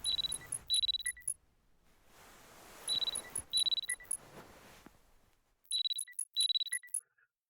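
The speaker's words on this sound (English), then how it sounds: "the alarm is ringing" An electronic alarm beeps in repeated bursts of rapid high-pitched tones, pausing between groups, clear and close over a quiet background.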